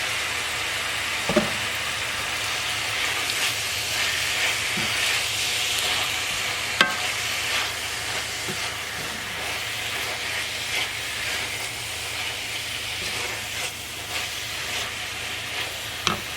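Spinach frying in a pan while a salmon, spinach and goat cheese frittata is being made gives a steady, close broadband sizzle and hiss, with a few soft clicks and stirring knocks and no talking.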